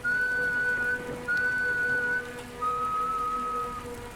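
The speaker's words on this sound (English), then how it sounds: "3 long whistles," Three long, steady whistles sound one after another, each held about a second with short gaps, clear over a faint hiss of rain.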